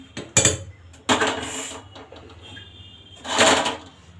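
A kadai wok is set down on the stove, giving sharp metallic clanks and scrapes in a few separate bursts, close and loud against near silence, with no talk.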